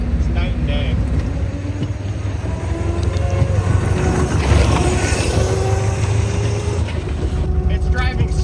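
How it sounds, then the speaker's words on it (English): A homemade micro camper rail vehicle rolls along railroad tracks outdoors, producing a steady low engine drone and rumble with wind noise throughout, close and continuous, while someone speaks over it. "It's driving so nice on the tracks."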